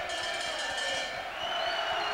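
A boxing crowd of Andy Flute's supporters sings at the tops of their voices at a Neville Brown fight, a dense, steady roar of voices with some whoops, continuous across the clip.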